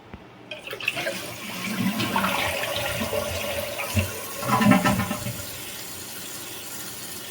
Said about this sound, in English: And now I'll go ahead and give it a flush.